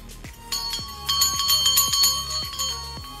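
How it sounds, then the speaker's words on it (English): A hand bell rings close by in a quick, rhythmic series of shakes, its bright metallic tones ringing on and overlapping between strikes. "Another example of sound energy is when I ring this bell, it vibrates to make a sound."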